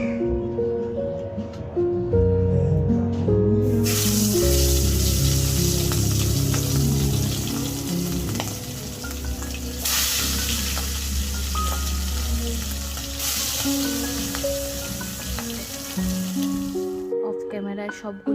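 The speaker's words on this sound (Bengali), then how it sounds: "কড়াই তেল গরম হয়ে গিয়েছে, এবার হালকা করে মাছগুলোকে একটু ভেজে নিব" Hilsa fish pieces drop into hot oil in a wok and sizzle loudly, with a steady crackling hiss that swells and persists throughout, close up, with a voice talking over it at times.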